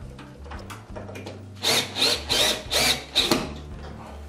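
A cordless power driver runs screws into a door closer in a series of five or six short whirring bursts with brief pauses between them. Faint background hum fills the gaps, and no voices are heard.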